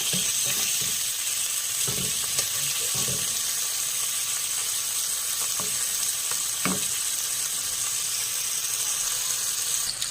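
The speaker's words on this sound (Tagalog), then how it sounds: "Nagmantika na po yan, ilalagay ko na po yung bawang, sibuyas." Garlic and onion sizzle steadily in hot oil for a home-style Filipino chicken adobo, a constant close hiss with a few soft clinks and stirring knocks scattered through, no talking.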